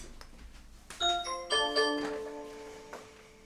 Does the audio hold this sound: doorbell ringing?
yes